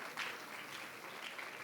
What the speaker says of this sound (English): You just keep clapping.